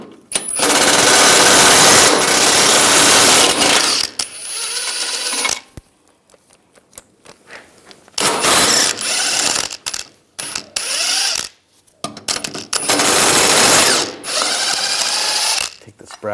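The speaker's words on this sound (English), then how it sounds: "we're going to take these bolts out. Use an E18 socket." Loud socket wrench ratcheting as bolts come out of the front lower control arm on a 2013-2016 Dodge Dart, using an E18 socket. Long runs of rapid clicking are broken by pauses and shorter ratchet bursts, with no talking.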